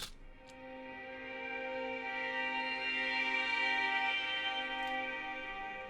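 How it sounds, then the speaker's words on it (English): Sustained violins play a chord progression, a lush chord that swells gently and shifts, washed in long heavy reverb, smooth and continuous with no voices. "first we start off with a chord progression by the Violins here"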